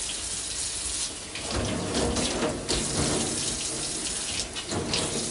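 Cold tap water runs steadily into a sink during face washing, a loud close splashing gush with brief surges and dips as hands move through the stream, with no talk.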